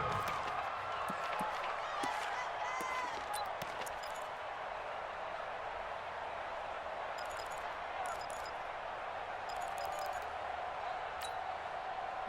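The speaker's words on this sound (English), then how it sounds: "the crowd getting into it as we come up on a big 3rd down" Stadium crowd in Madden NFL 20 builds a steady, distant roar of cheering ahead of a big third down, with scattered claps and whoops rising over the wash and a commentator talking throughout.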